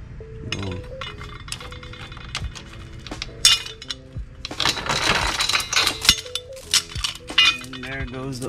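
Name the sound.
old motorcycle drive chain being removed, metal clinking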